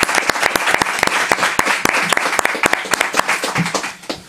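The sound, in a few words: audience applause for Javi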